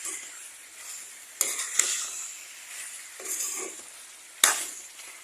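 Goat or pork meat sizzles in a pan while being stirred, a soft steady frying hiss broken by a few sharp scraping bursts from the spatula, close by with no voices.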